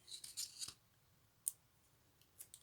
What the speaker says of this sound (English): So I'm going to cut around it like this